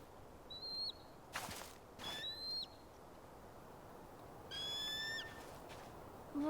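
A bird of prey calls in the video game Tell Me Why, giving several high, thin, whistling cries with short gaps between them over a soft outdoor ambience.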